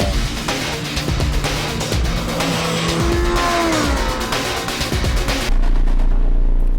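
A 2021 BMW M 1000 RR motorcycle lapping a racetrack makes a loud, continuous high-revving engine roar that rises and falls through gear changes, then settles into a heavier, steadier drone near the end.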